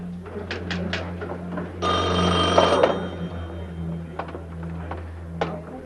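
A telephone bell rings in a loud burst of about a second, set against a low hum and a few faint clicks and taps.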